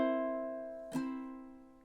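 Ukulele chord ringing out with a sustained tone, a single thumb or finger pluck near the middle adding a short bright accent before the notes decay alone.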